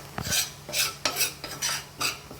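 Pepper powder and garam masala stirred in a hot pan while cooking egg biryani, with five or six distinct scraping strokes of a metal spoon against the pan at a steady rhythm, close and fairly loud.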